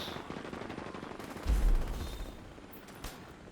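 A specialized weapon fires in the video game The Division 2, a fairly faint, rapid burst of gunfire with a heavier thump in the middle.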